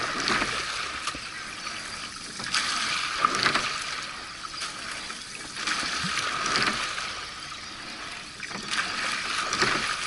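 Oars swish and splash rhythmically as a crewed rowing boat glides through water during training, each stroke a rushing surge repeating every few seconds.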